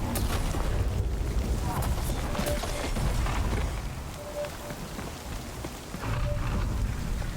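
Rain hisses steadily in the DMZ video game, with a few low thundery booms rolling underneath and faint in-game tones over the top.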